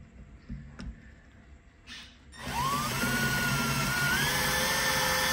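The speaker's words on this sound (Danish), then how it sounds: "Og jeg borer." Electric drill boring into clamped wood: a few faint clicks and a short whir, then the motor spins up to a loud, sustained high whine as the bit bites, close up.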